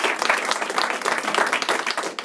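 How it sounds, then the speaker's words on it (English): Audience applause for two presenters at an LD24 Democrats cannabis panel discussion, a dense, steady wash of many hands clapping that lasts through the whole short stretch at fairly close range. "let's have another round of applause for our two presenters real quick here"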